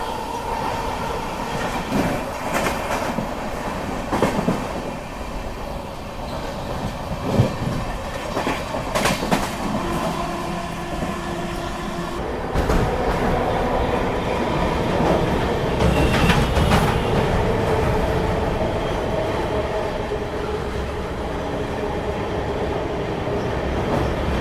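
Passenger train on the Patna to Hazrat Nizamuddin route running at speed near Prayagraj, with steady loud rumble, rhythmic clickety-clack of wheels over rail joints and occasional squeals, continuous throughout without talk.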